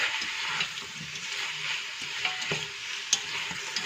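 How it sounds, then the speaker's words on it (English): Meat coated in spices being stirred in a pot for a Persian yellow split pea stew, a steady sizzle under soft scraping and a few sharp clicks of the utensil against the pot, with no speech. "I will give it a good mix just to make sure that every piece of the meat is covered with the spices"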